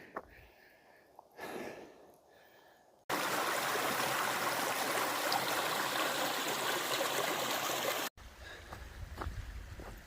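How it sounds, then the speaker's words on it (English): A river flows beside a wooded stretch of the Appalachian Trail, its loud, continuous rushing filling the middle of the recording, with quieter outdoor sounds and soft movement before and after. "it's a beautiful river."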